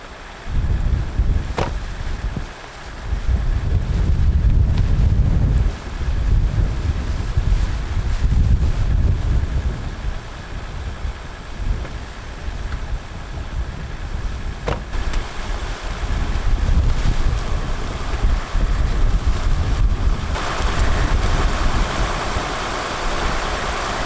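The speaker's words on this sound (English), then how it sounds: "This wind is absolutely insane." Strong wind roars and buffets the microphone at Alpine Meadows, Tahoe, a continuous low rumbling rush that surges and eases in loud gusts, with no voices present.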